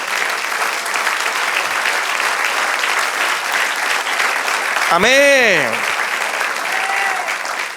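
Congregation applauding in church during a sermon, sustained loud clapping with a voice calling out over it near the end.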